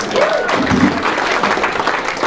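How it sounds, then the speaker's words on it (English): A comedy-show audience applauds, loud and close, in a dense, continuous burst of clapping, with a voice briefly audible near the start. "Clap for him too"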